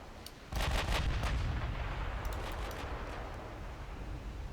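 Heavy battleship gunfire in the naval game Dreadnought Improvement Project, with a loud booming salvo that opens with a sharp onset and then a long rumbling roll. Several further shots crack over the sustained low roar.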